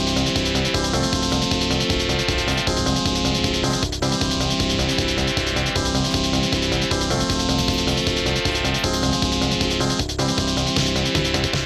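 Upbeat Space Harrier arcade music played from vinyl, with punchy synthesized drums and bright electronic melody, loud and continuous, with a slight vinyl character throughout.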